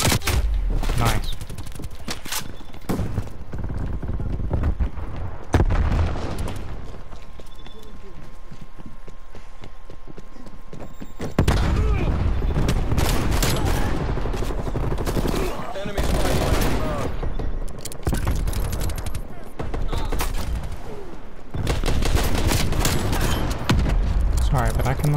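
Diamond-camo pistols firing in Call of Duty Cold War multiplayer, rapid bursts of gunshots and game effects over busy in-game noise, with a voice talking throughout.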